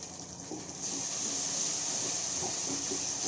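Two tomatoes added to hot oil with sautéed onion, ginger and garlic for a beef curry, releasing a loud steady sizzle that swells after a moment and holds, close and without talk.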